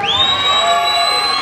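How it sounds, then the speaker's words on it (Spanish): Crowd at a Bully Show Festival event in Medellín in 2016 cheers loudly, with a sustained high whoop or shout ringing over a dense wash of crowd noise. "Viene el aplauso para el joven, el Nicolás."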